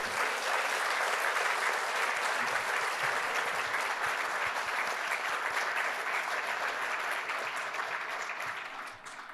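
A ceremony audience gives sustained applause for an early-career engineering award honoree. Thick, even clapping holds steady and loud throughout, tapering off only in the final moment.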